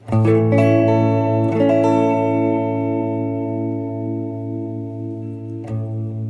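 An electric guitar chord played through the tremolo setting of a Coolmusic multi-effects pedal rings out and sustains with a slow decay, a second strum arrives near the start, and a light pick sound comes near the end.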